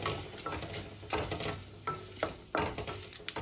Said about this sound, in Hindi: इसमें लाल मिर्च ऐड कर देंगे। मिला लेंगे अच्छे से